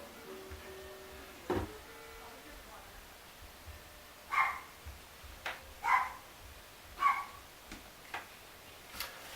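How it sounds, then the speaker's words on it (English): A dog barks in the background as the mail arrives, a handful of muffled, distant barks coming in short bursts a second or so apart, separate from a nearby voice. "Probably hear my dog in the background barking."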